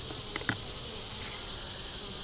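Honeybees buzzing steadily at an open hive during an inspection, a dense continuous drone close by with a couple of faint knocks early on.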